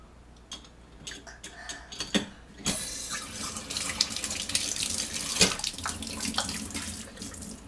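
Tap water runs into a sink while wine bottles are washed, starting with scattered clinks and drips and then a steady, fairly close gush of flowing water with splashes and bottle knocks, no talk.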